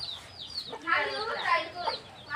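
Chicks and hens at a family pigeon farm cluck and peep in short, quick bursts close by, with some talk underneath.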